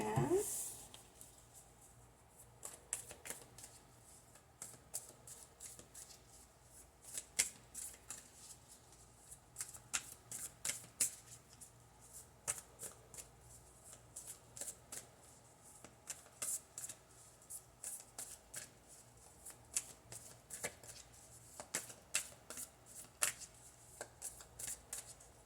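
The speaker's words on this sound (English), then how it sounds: "I'm going to shuffle them really good" Tarot cards shuffled by hand, a steady run of soft riffling and flicking bursts close by, repeating irregularly with brief pauses, with no talk over it.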